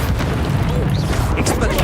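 A curse spell in Hogwarts Legacy bursts as a dense, booming explosion that roars steadily for a couple of seconds, loud and close, with a faint voice mixed in.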